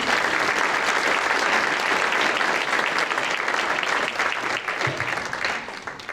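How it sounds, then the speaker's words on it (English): A veterans breakfast audience in North Reading gives a sustained round of applause honoring military working dogs, dense and steady throughout and tapering slightly near the end. "I would like to offer a round of applause in recognition of the brave service of all current and former military working dogs"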